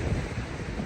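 At the seashore in high winds, a brief, continuous rush of waves and strong wind roars, with wind buffeting the microphone heavily.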